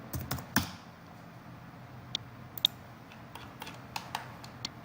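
Computer keyboard keys and mouse clicks tapped out at an irregular pace while modelling a two-sided clip angle connection in structural design software, close and fairly quiet against a low room hum, with no talking.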